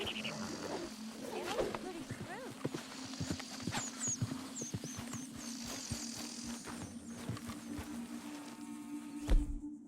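Horse hooves clip-clop at a steady pace in the video game Red Dead Redemption 2, set among outdoor wildlife sounds with insects buzzing, moderately close and mixed with ambient game noise.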